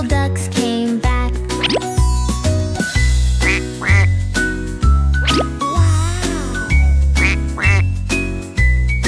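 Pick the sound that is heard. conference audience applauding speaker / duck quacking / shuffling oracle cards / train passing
duck quacking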